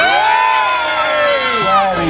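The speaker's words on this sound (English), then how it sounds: "let's have a nice big cheer for the red team dogs" Crowd of spectators at a 2013 dog show event at Tredegar House cheering and whooping loudly for the red team dogs, a sustained dense roar of many voices with children's shrieks rising above it.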